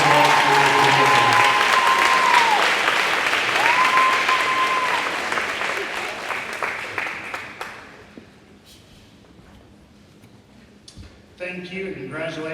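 An audience at a community awards ceremony in Fayetteville, NC applauds the award recipients. Loud sustained clapping with a couple of cheers fades out midway, then a voice speaks over the quiet room.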